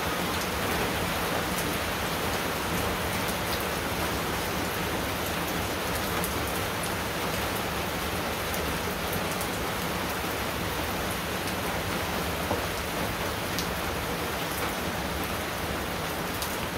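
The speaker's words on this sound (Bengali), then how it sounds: "যে পরিমাণ বৃষ্টি নামে" Heavy monsoon rain pours down outdoors in a steady, dense hiss on surfaces, constant and enveloping throughout with no voices.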